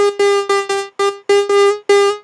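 Square-wave synth lead from Ableton's Analog playing a choppy rhythmic phrase of about seven short bright notes, buzzy and hollow, loud and alone.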